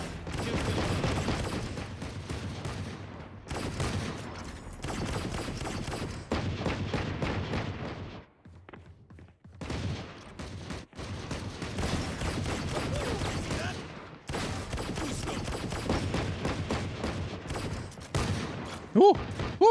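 Video game gunshots crack in rapid volleys, broken by a few short pauses, with a player's voice chattering between and over the firing.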